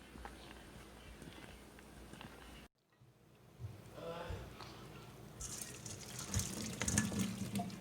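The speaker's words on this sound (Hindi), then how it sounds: "लौकी क्यूब्स बॉयल हो गए और अब हम इसको स्ट्रेनर में डाल के स्ट्रेन कर लेंगे।" Boiled bottle gourd cubes are tipped into a strainer in a kitchen, with a break in sound followed by rising splashing and trickling water that grows louder toward the end, under light background noise.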